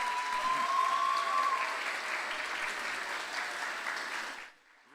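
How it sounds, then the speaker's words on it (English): Audience applause at a school English Day event for second grade students, steady dense clapping from a crowd that fades out at the end. "Let's give them a round of applause."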